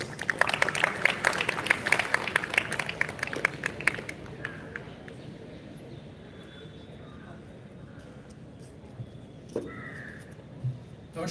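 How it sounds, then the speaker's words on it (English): Audience applause welcoming the director at a graduation and alumni induction ceremony, a dense burst of clapping for about four seconds that fades to a quieter hall with scattered sounds. "Can you welcome with a round of applause, please?"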